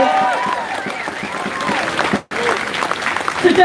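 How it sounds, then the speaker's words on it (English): A crowd at a live event applauds in a dense, continuous burst of many hands clapping, with a brief cut midway before the clapping resumes just as strongly; some voices mix in. "could you please give him a massive round of applause for what he intended to do?"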